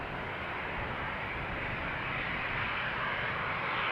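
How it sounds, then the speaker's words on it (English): Jet airliner departing Amsterdam Schiphol on runway 36L in a light crosswind, a steady broadband engine roar that holds loud and constant throughout, slowly swelling toward the end. "these airplanes now taking off into the north"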